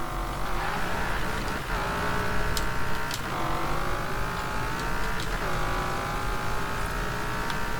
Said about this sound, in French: on va partir et à 280 km/h, on va arrêter dans le sable